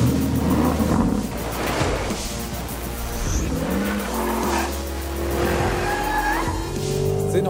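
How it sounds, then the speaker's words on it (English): Porsche Cayenne, a second-evolution model with 550 PS, driven hard around the Hockenheimring, with engine revving, gear changes and tire squeal sounding close and loud throughout. "The car I'm in right now, the second evolution, clocks up 550 PS and 750 Newton meter."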